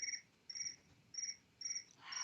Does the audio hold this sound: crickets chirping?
yes